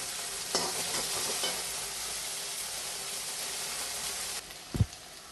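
Ginger and garlic fry in a pan with a steady sizzle while being stirred, brief scrapes rising above the hiss and a sharp knock of the utensil near the end.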